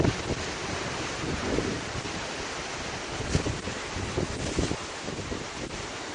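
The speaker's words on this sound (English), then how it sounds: "There's a 20-second video of just a beach." Ocean surf washing onto a beach, a continuous loud roar of breaking waves with heavy wind buffeting the microphone and occasional stronger swells, no voices.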